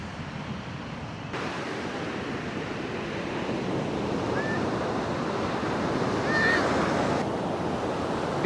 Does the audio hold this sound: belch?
no